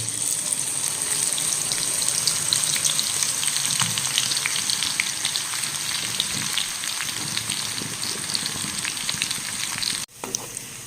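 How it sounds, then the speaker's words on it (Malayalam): Crushed garlic, six cloves, frying in hot oil for a Kerala-style beef roast, a dense, steady close-up sizzle with crackling bursts that continues unbroken, briefly cut near the end. "എണ്ണ നന്നായിട്ട് ചൂടായിട്ടുണ്ട് അതിലേക്ക് ഒരു ആറ് വെളുത്തുള്ളി ചതച്ചത് ഞാൻ ഇടുകയാണ്"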